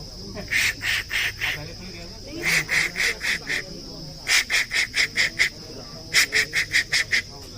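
A person mimics a bird called the karol, a companion species of the magpie, with bursts of quick, high, piping whistled notes, four short groups separated by brief pauses, close and clear.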